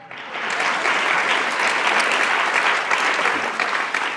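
Audience applause fills a lecture hall at an urban education symposium, a steady, dense clapping that holds for about four seconds before easing slightly at the end.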